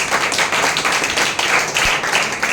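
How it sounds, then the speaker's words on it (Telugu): A church congregation claps their hands together in praise, a dense, continuous burst of many hands clapping at once in a room. "అందరూ చప్పట్లు దేవుని స్తుతించండి"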